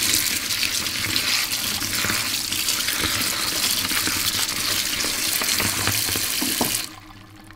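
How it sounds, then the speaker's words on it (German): Rosehips are washed under a running tap, giving a loud, continuous splashing rush of water with some rattling of the fruit, close by, until the flow stops abruptly near the end. "als erstes werden die Hagebutten gewaschen"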